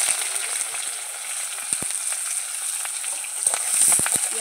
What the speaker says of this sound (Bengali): তেলটা গরম হয়ে গেছে, তেলের মধ্যে দিয়ে দেবো পেঁয়াজ।